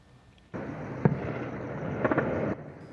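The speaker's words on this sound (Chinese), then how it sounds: "夜空当中传出炮声，各出现爆炸火光。" Distant artillery explosions at night in Kashmir boom into a sustained rumbling roar lasting about two seconds, punctuated by a few sharp cracks, then cut back to quiet.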